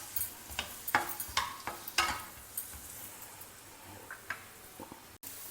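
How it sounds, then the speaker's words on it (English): Sliced onion sautés in oil in a pan: a quiet background sizzle broken by irregular clicks and scrapes as it is stirred, the strokes thinning out toward the end. "Add the sliced onion and saute till it is translucent."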